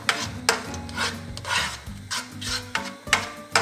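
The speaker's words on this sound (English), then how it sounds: "Adding the rest of our onions to the pot." Onions sautéing in a pot, heard as a series of close, rhythmic scraping and rubbing stirs with a faint sizzle beneath, no voices.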